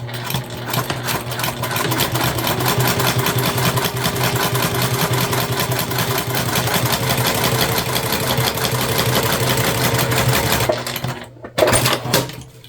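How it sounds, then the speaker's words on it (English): A sewing machine stitches fabric pieces together for a sling bag, a loud, steady mechanical whir with rapid needle ticking running continuously for about ten seconds before stopping briefly and restarting. "And then we're sewing full sew together."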